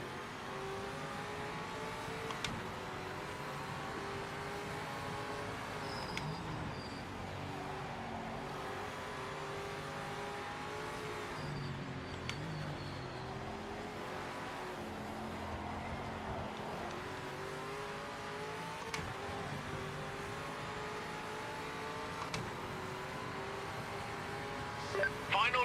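A race car in the PMR racing game laps the track, its engine note rising and falling through gear changes as a quiet, continuous whine with occasional faint clicks.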